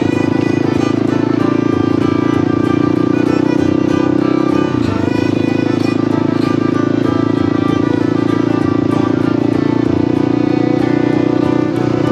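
A 2020 Honda CRF250L Rally motorcycle rides along a trail, its single-cylinder engine holding a loud, steady drone close to the microphone with a brief dip in revs midway.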